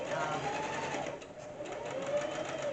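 A domestic sewing machine stitches thin lining fabric for a makeup bag, giving a steady close whirring hum with a slight rising and falling pitch that runs without a break.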